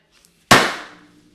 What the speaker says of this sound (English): We got the confetti cannon.